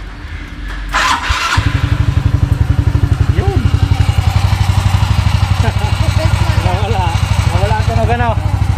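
A motorcycle engine fitted with a new pulley set starts with a short whir, then settles into a steady, close, loud idle with a brief word spoken over it at the start.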